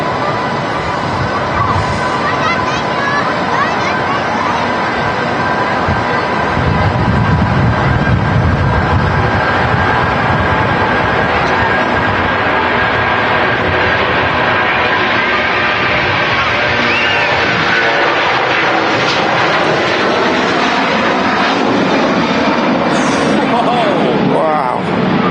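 An airliner powered by Rolls-Royce Trent 700 engines roars through its takeoff roll at Manchester Airport, departing for Lanzarote, a loud broadband rumble building and holding steady throughout, with people talking over it.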